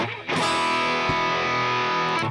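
An electric guitar played dry and distorted through a NUX MG-30 effects unit with the delay switched off, one sustained, heavily overdriven chord ringing out loud for about two seconds, with a brief pick attack midway.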